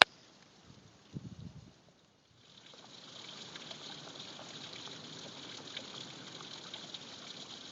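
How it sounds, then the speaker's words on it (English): A double waterfall in the Eastern Ozarks in spring gives a steady, moderate rush of pouring water after a quiet opening with a brief soft knock. "This is a double waterfall."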